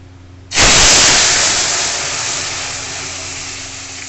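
Dal tipped into a sizzling tempering of burnt dried red chilies, erupting in a sudden loud hiss that holds as a steady, close sizzle and fades only slightly.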